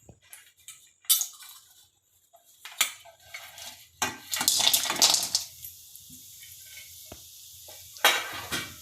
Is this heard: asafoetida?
yes